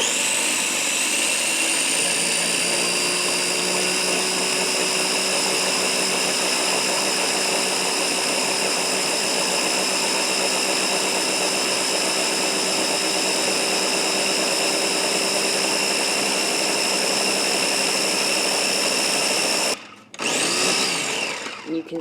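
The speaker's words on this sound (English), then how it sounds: "The oil and the aloe gel. Now we're going to blend it." A blender runs loud and steady, whirring through hot oil and aloe gel with a constant motor whine, then stops abruptly near the end.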